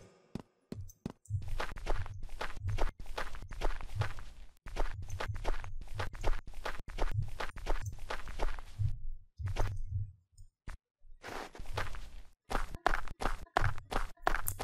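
Game-engine footstep sounds for terrain and objects, including snow, play as a steady rapid run of near, crisp steps. The rhythm breaks with short pauses and a jump, then resumes, with no talking.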